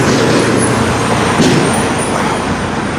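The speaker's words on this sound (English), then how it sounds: "Pardon the noise, people, we're on the highway." Dense highway traffic roars along the West Side Highway in New York beside Battery Park City, a loud continuous wash of cars, buses and trucks with a faint air-brake hiss.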